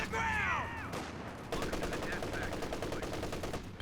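A captured MG34 machine gun lays down suppression fire in Company of Heroes 2, a continuous loud rattle of rapid bursts that plays over other battle noise and a brief whining sound.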